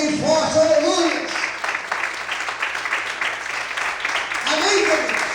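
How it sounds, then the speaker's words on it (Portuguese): A church congregation claps steadily and fairly loudly, with a dense run of hand claps throughout. A preacher's voice talks over the start and the end. "Louve a Deus e aplauda Ele bem forte."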